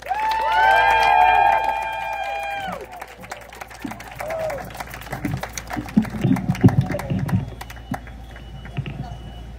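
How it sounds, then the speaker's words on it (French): A crowd at a French-language political rally applauds and cheers in welcome for Jimmy, with loud whistles at first and then a steady patter of clapping that fades into scattered claps and murmuring. "une bonne main d'applaudissements pour Jimmy"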